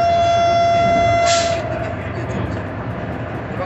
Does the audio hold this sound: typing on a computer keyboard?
no